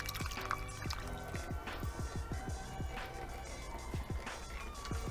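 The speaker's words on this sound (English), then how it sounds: "stick a funnel in, put open your filter or cheesecloth or whatever you're going to use to strain, and pour in the kvass" Homemade Russian kvass pours through a funnel and cheesecloth strainer into a bottle, a close, continuous glugging trickle with rhythmic bubbling gulps as the liquid fills the neck.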